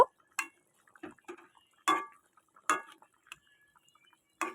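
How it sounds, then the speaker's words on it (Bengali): A spoon stirs pangas fish curry in a pan, making sparse, sharp metallic clinks and scrapes with ringing tones, separated by near silence. "এবার আমি একটু ভালো করে একটু নেড়ে দেব"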